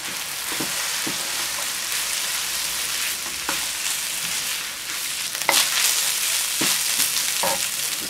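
Cooked rice sizzles steadily in a hot pan with a sprinkle of cheese fried rice seasoning, a continuous crackling hiss broken by a few sharper stirring scrapes, close and alone with no talk.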